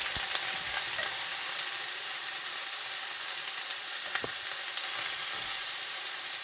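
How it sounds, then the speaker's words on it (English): Potatoes frying in hot oil for an Ainu-style sampei jiru soup, a constant loud, close sizzle with a dense crackling texture and occasional faint knocks from stirring. "I'm going to add a little bit more oil, and it's going to sizzle like crazy and make a bunch of noise"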